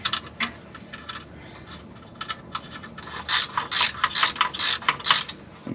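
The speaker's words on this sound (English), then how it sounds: "We'll run those down with the socket." Socket ratchet running nuts down onto a slave cylinder on a 1990 Chevy 2500 truck, a series of quick close clicking bursts that speed up and grow louder toward the end, with no talking.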